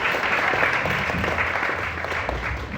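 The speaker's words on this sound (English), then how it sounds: "Give them a round of applause for the dice sweepers" A summer camp theater audience applauds the dice sweepers, a continuous, fairly loud patter of many hands clapping for about three seconds without clear voices.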